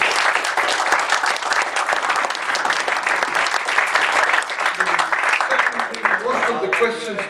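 An audience at the 7th SHARGIA Champions Trophy event breaks into warm applause, a loud, sustained wash of clapping from a large crowd, with a voice coming through faintly near the end.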